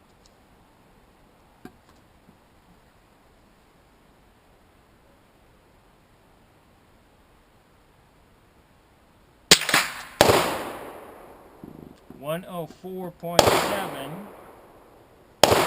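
A Ruger 22/45 pistol fires CCI copper .22 rounds: after a long quiet stretch, sharp, loud cracks burst out close by near the end, mixed with a voice.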